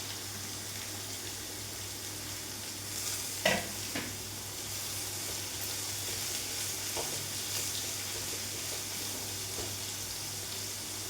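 Onion, curry leaves and small green chillies fry in a pan for a Kerala drumstick thoran, giving a steady low sizzle with a couple of brief stirring clatters near the start, close by and without talk.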